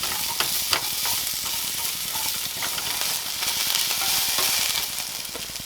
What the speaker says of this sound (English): we're going to take half of our onion that we chopped up from before and just soften them just a little bit